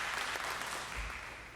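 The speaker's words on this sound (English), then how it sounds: "give him a round of applause" Audience applause at a gathering: a brief, faint wash of steady clapping from a crowd, even and continuous.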